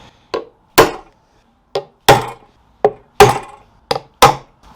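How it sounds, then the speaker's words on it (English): A fine metal punch is struck with a hammer to mark spots on a wooden slab for coffee table legs, eight sharp close knocks in uneven pairs, each with a quick decay. "I'm going to mark them with this reasonably fine punch"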